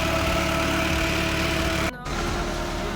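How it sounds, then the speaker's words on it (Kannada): A four-cylinder engine aboard a fishing boat at sea runs steadily, a loud close droning hum with a low throb that briefly dips for a moment before resuming; no voices. "ಇಲ್ಲೇ ಒಂದು 10 ನಿಮಿಷ ನಿಂತ್ಕೊಂಡಿದ್ರೆ ತಲೆಯೆಲ್ಲ ಗಿರ್ರಾಗುತ್ತೆ ಇಂಜಿನ್ ಸೌಂಡ್."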